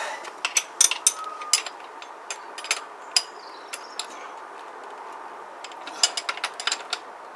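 A nut being tightened with a ratcheting tool on a cheap kids' motocross bike: quick clicking ratchet bursts in short uneven runs, close and fairly quiet, with brief pauses between them.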